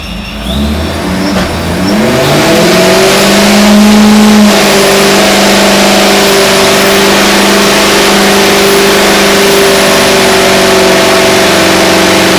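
A supercharged Corvette Z06 engine cranks and fires up, then settles into a loud, steady, close-up drone with a throaty rev in the first few seconds.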